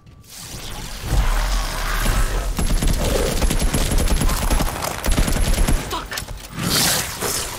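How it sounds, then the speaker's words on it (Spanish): Machine gun fire in the survival horror game Daymare 1994: Sandcastle, loud sustained bursts of rapid shots with mechanical clatter running for several seconds, briefly pausing before a final burst. "Vamos a probar la ametralladora ahora"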